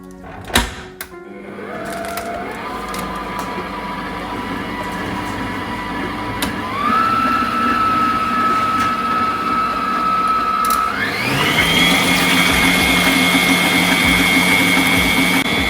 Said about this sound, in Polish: teraz zaczynamy ubijać. Najpierw na wolnych obrotach, później na szybszych.